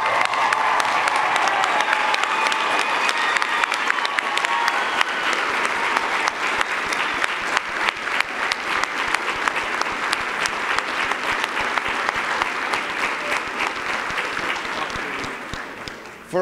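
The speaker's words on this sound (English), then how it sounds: "rise and give a round of applause for the class 51 of the Newark Fire Division" A large audience applauds a graduating Newark Fire Division recruit class at a ceremony, a sustained dense roar of clapping from many hands that turns into more distinct individual claps toward the end.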